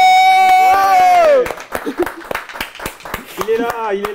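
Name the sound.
audience applauding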